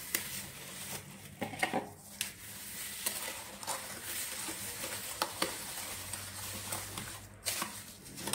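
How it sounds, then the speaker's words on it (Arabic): A spoon stirs homemade orange jam in a pot, scraping and sloshing steadily up close with a few sharper knocks against the pot, alone with no talk. "وغادي نحركها، نحاول نخلط مزيان"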